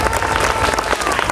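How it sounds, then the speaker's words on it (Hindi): An audience at an Independence Day celebration for 15 August applauds loudly. Dense, continuous clapping fills the short stretch with a faint crowd murmur beneath it. "जोरदार ताली बजाइए जोर से प्लीज।"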